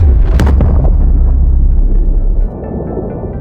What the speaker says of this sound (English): The massive explosion's shockwave rocketed skyward, reaching even into outer space.